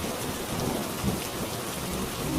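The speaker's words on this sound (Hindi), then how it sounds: "भयंकर बारिश शुरू हो गई।" Heavy rain pours steadily with thunder rumbling underneath, a dense continuous hiss without pause.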